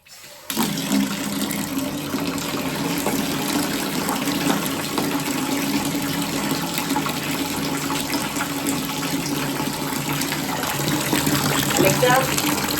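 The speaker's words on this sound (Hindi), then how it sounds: "पानी खत्म हो गया तेरा, वापस भरता हूँ उसको।" Water running steadily from a tap as a container is refilled, a continuous rushing flow that holds at an even level for about twelve seconds.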